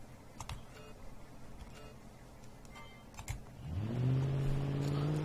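An American car engine in the BeamNG.drive driving game, quiet at first, then rising into a loud, steady rev with climbing tone over the last second and a half, with a few faint clicks before it.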